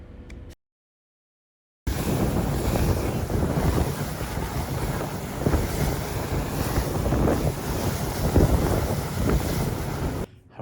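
A boat crosses the San Francisco Bay in wind, a steady loud roar of wind buffeting and water rush that runs without a break after a short silent gap near the start.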